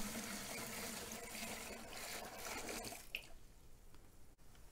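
A gallon of plant nutrient mix poured into a gravity-feed watering bucket gives a soft, steady trickling that fades out near the end, quiet and close with no voices.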